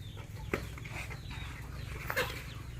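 Chickens cluck faintly on a farm as they are fed, with a couple of short sharper calls standing out over a steady low background hum.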